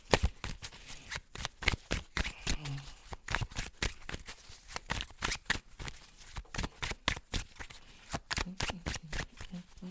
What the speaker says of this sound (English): When a bunch of cards come out at once, it's just me failing to shuffle properly.